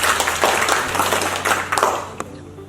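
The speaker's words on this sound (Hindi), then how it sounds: "थैंक यू सर के लिए एक बार जोरदार तालियां हो।" Applause from a small group at a corporate training session, loose uneven claps with a few distinct individual hits that thin out over under three seconds over a low steady hum.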